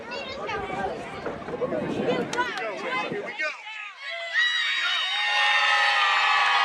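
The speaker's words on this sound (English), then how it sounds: "a little mixed reaction from the crowd. Some cheers, some boos." A crowd at a small-town wrestling show in Mack's Creek, Missouri, reacts with a noisy mix of cheers, shouts and possible boos, rising into sustained, loud whooping near the end.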